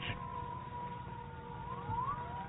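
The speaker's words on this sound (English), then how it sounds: "Listen, the siren." A distant air raid siren wails in a steady rising and falling tone, faint and muffled over a low background rumble.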